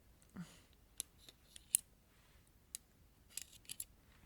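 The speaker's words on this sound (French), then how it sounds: "je m'amuse avec des ciseaux à faire ça" Scissors snipping close to the microphone in a quiet ASMR setting, a series of crisp separate cuts spaced irregularly, one at a time with short pauses, soft and intimate with no talking.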